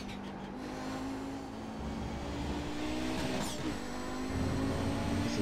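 Audi 90 GTO race car engine in a racing video game at Twin Ring Motegi during Kamel GT series qualifying, a steady loud high-pitched engine drone with shifting revs and gear changes, continuous and alone without talk.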